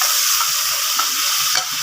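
Minced mutton and tomato stir-fried in a pan: a steady, close hiss of sizzling with a few soft scrapes and clicks of a spoon, no voices.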